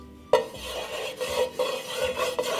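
A wooden spoon stirs oil in a pot while Jamaican curry goat is being cooked, producing a sudden knock and then rough scraping strokes with light clatter, close and unbroken by speech.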